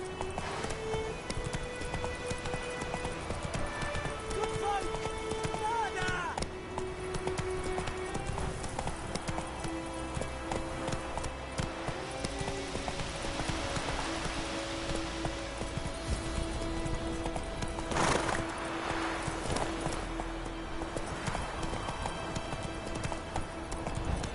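Roach, the horse in The Witcher 3, gallops with steady, close clip-clop hoofbeats that run continuously over a dense game soundtrack, with a faint snort or whinny partway through.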